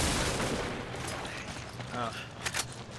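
Gunfire from a shotgun in the Resident Evil 5 co-op game, a dense burst of shots under a noisy game soundtrack, with a loud pair of blasts near the end.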